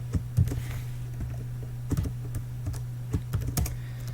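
Close, uneven keystrokes clatter on a computer keyboard while someone writes Java code, in scattered clusters of taps with short gaps between them.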